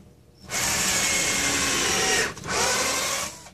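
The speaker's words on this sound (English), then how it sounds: "What I'm going to do is drill a bunch of pilot holes in it" A power drill bores pilot holes into scrap lumber, whirring loudly and steadily in two close bursts separated by a brief pause, with no speech over it.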